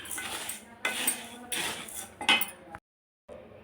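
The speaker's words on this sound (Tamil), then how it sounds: "அதை போட்டு லைட்டாக வச்சு அப்படியே மொத்தமாக கிண்டிடணும்" Metal spoon stirring a roasted mixture in a cooking pan, four bursts of scraping and clinking against the metal, close and crisp, followed by a short silence and one softer scrape, no voices.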